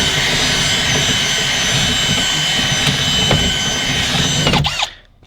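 A power drill bores out a rivet on a 2010 Kia Forte door during lock actuator replacement, a loud, continuous high whine with grinding for about four and a half seconds before spinning down abruptly.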